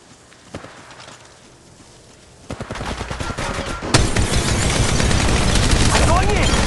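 Gunfire in the mobile shooter Apex Legends Mobile, a sparse shot or two followed by a dense, loud burst of rapid automatic fire that keeps building and stays close, with other game sounds mixed in.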